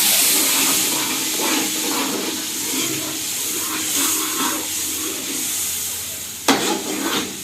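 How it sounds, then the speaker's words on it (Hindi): Masala frying in a pan as a splash of water is added, giving a steady close sizzle and stirring scrape, with a sharp hiss burst near the end when the water hits the hot pan. "अब जो है ना नीचे चपक रहा है तो थोड़ा सा इसमें पानी लगा लो।"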